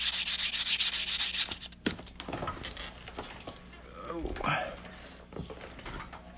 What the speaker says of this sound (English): I'm just sanding these cut edges to make them nice and smooth